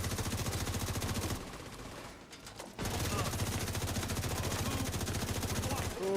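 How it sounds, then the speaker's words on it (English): An enemy turret in The Division 2 fires in long, rapid automatic bursts. The shots come close and loud, pause briefly, then resume relentlessly. "Man, that turret is eating me up. Yo, that turret won't stop shooting."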